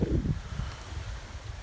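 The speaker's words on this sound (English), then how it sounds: "we couldn't rent the swan boats because it's too windy, causing rough paddling conditions" Strong wind gusts buffet the microphone beside Lake Towada, a low rumbling roar that is loudest at the start and then settles into a steady blustery rush, with no voices.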